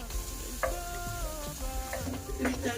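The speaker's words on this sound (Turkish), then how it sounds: "Ve beraber kavuracağım." Vegetables, including celery, sizzle and crackle in a hot pot, with a spoon scraping and stirring through them in short bursts.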